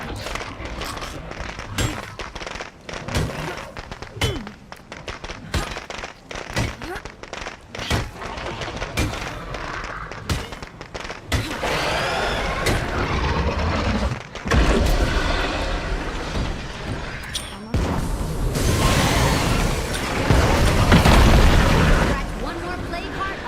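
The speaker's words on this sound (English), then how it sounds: "Let me get the firecrackers out here." Firecrackers going off in the State of Decay 2 video game, a long run of sharp popping bursts and thuds that thicken into a dense, loud crackle toward the end, mixed with other game sounds.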